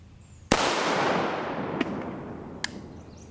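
A single sharp gunshot, fired at an RMA 1092 Level III+ armor plate with M193 ammunition, cracks loudly and close, leaving a long decaying echo and two faint clicks afterward.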